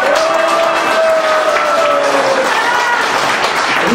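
Crowd applause at a Korean political rally, loud and sustained clapping with cheering voices mixed in and a speaker's voice cutting through over the top.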